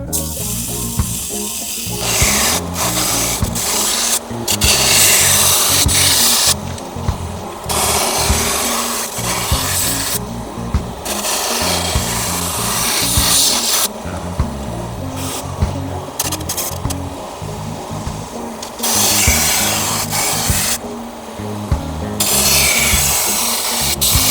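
A slow knife-sharpening machine running at 550 RPM grinds a knife blade, making a steady rasping, rubbing drone that repeatedly starts and stops as the blade is drawn across and lifted off.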